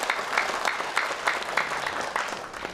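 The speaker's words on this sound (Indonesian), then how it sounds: "kita boleh minta tepuk tangannya dulu, Bapak Ibu semua." Audience applause at a public mayoral debate in Ternate, moderate clapping filling the hall with a steady patter, fairly soft and distant.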